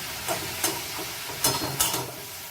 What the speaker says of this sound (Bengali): এই যে নারকেলটা ভেজে দিয়ে দিলাম